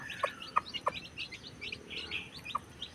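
Several short, high peeps from newly hatched native chicks, scattered over a few seconds against a faint outdoor background, with no speech.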